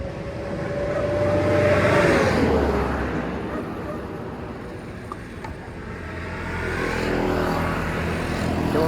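Motorcycle engine idling and running unevenly at a roadside stop, its uneven throb rising and falling in loudness, with a brief higher whine early on and background traffic.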